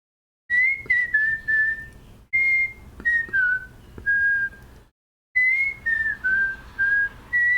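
A person whistles a wavering melody in three phrases of short, clear notes, separated by brief silences, close and alone.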